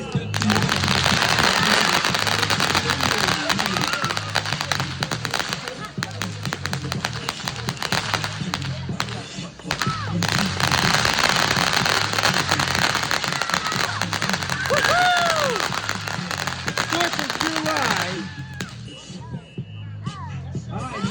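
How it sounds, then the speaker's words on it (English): A Toxic Barrel Fountain firework sprays a dense, continuous crackle of sparks with scattered pops, while music with a voice plays over it. "Now that was a cool looking firework. Toxic Barrel Fountain."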